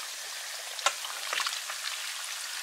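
Chicken wings for buffalo wings frying in hot oil: a steady, even sizzle and bubbling, close by, with a couple of soft clinks over it.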